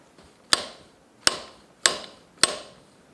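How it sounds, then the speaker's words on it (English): A nylon seal driver knocks a fork seal into a GSX-R 1000 fork leg with four sharp, evenly spaced taps, loud and close, with a brief ring after each and no speech. "What we need to do is drive in the seal."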